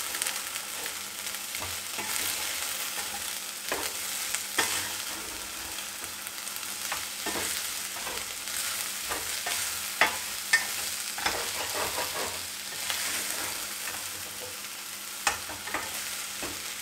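Ivy gourd stir-fried with chili and other spice powders and salt in a pan: a constant close sizzle broken by frequent scraping and clacking strokes of a spatula, with no talking.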